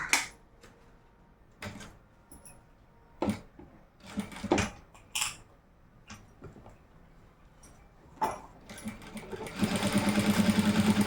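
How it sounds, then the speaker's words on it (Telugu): Sewing machine stitching folded fabric edges on a vaddanam-style half-saree, with scattered handling clicks and knocks before the motor starts up toward the end and runs with a steady, fairly quiet stitching rhythm. "ఇట్లా ఒక సైడ్ ఈ విధంగా ఇట్లా ఫోల్డింగ్ చేసుకుని కుట్టు అనేది వేసేసేయండి"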